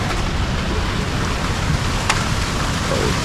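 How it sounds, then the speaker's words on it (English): Small waterfall spilling out from beneath a large rock ledge, a steady, close rushing and splashing of water that stays constant throughout, with no voices. "There's like a little waterfall coming out underneath that big ledge."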